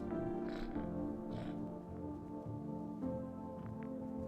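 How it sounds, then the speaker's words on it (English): A cat purrs steadily and close by, a low rumbling drone with soft rhythmic pulses, no voices. "I mean, it was purring."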